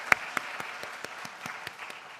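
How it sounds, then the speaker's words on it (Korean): Applause during a Friday church worship service, heard as a small handful of separate, evenly spaced claps at moderate volume with little else around them. "하나님께 감사의 박수 드립니다"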